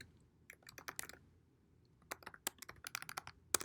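A computer keyboard being typed on, quick irregular bursts of light clicking keystrokes, close and fairly quiet, with a short pause midway and no talking.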